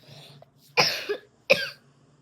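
A woman gives two sharp coughs about three-quarters of a second apart, close and fairly loud, with a short huff between them and quiet before and after.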